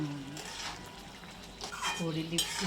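Utensils clink and scrape against a cooking pot as a ridge gourd and black-eyed bean vegetable mixture with coconut-onion paste is stirred, short clattering strokes close by, with a voice talking over it.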